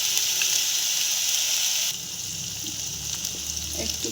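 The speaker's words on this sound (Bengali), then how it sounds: "পেঁয়াজটা ভাজা হয়ে গেছে, আদা রসুনের পেস্ট দিয়ে একটু ভেজে দেবো।" Ginger-garlic paste frying with onion and cumin in a pan, a loud, bright sizzle that abruptly softens partway through into a quieter, bubbling fry with light stirring.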